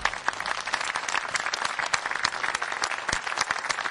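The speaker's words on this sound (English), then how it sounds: "So a big round of applause for everyone." Audience applause at a Milwaukee civic forum on the downtown sports and entertainment district, a dense, steady wash of many hands clapping close and loud for the full stretch, with no talk over it.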